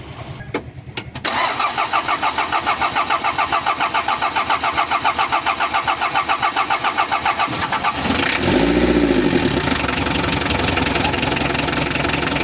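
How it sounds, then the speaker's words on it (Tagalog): A car engine being cranked and fired up after maintenance work, with a few sharp clicks, then a long rhythmic starter whir for several seconds before the engine catches and settles into a louder running idle, close by. "So start na natin kung tama yung ating timing, kung hindi nagbago."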